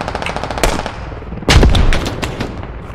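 A grenade detonates amid heavy rifle fire in the military shooter Squad, a booming blast in the middle standing out from the rapid, crackling shots around it.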